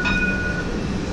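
A street tram in Jerusalem begins to move off, giving a close rolling rumble with a brief high electric whine that fades after the first half second.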